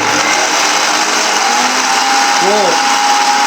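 A kitchen mixer grinder whirs loudly and continuously while grinding spice powder to a finer texture, a steady high motor drone with a brief pitch wobble, and a voice speaking faintly beneath it.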